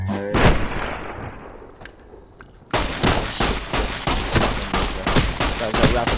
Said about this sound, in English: I got rapid fire, got an automatic.